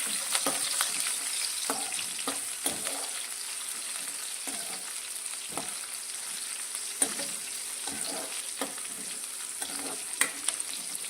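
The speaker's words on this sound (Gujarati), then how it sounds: "તે આપણે તેલની અંદર લઈ લઈશું અને તેને આપણે 1 મિનિટ માટે આ રીતે તેલમાં સાંતળીશું।" Strips of capsicum sauté in hot oil with a constant bright sizzle, punctuated by brief clicks and scrapes of stirring spread evenly throughout.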